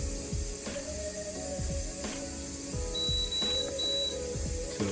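A pressure cooker's control panel being set on the timer, producing a series of short mechanical clicks with a high electronic beep, several presses spread unevenly over a few seconds.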